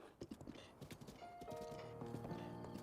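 Horse hooves clop at a gallop in the game Breath of the Wild, a quick steady rhythm of thuds that gives way to a sustained musical tone as the ride continues.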